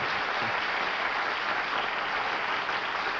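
Steady, dense applause from a studio audience at a 1972 television game show, filling the room evenly at a loud, sustained level with no breaks and no voices over it.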